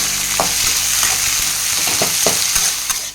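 Tomatoes sauté in a pan for a goat intestine gravy, giving a constant loud sizzle broken by regular spoon-stirring scrapes, with no voices.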